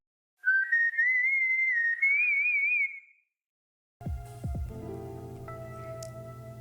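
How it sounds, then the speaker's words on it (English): Proto Man's signature whistle tune from a Mega Man trailer plays as a clear, wavering melodic whistle for a few seconds, then gives way to louder layered game music. "we heard a familiar whistle"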